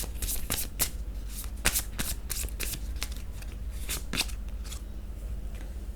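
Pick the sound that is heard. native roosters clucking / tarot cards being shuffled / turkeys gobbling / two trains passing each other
tarot cards being shuffled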